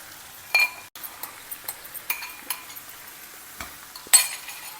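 Spoon scraping and clinking around a pan as beaten curd is mixed into softened capsicum gravy, a string of soft, close stirring taps with a faint sizzle beneath and a sharper clink near the end.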